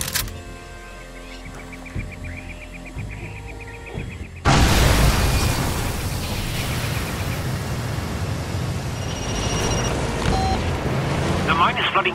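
A pipeline blown up in the video game Far Cry 2: a sudden loud blast gives way to a sustained roaring, rumbling wash of fire and debris lasting several seconds, following a quieter stretch with game sounds and talk.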